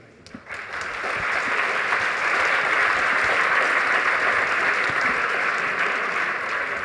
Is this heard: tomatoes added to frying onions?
no